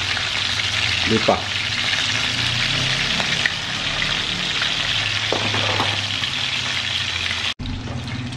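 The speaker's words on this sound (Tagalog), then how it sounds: "Tingnan natin yung ating piniprito. Matilamsik." Food frying in hot, spattering oil for a Filipino home-cooked dish, a loud continuous sizzle with crackling pops throughout, close by, with a brief spoken phrase.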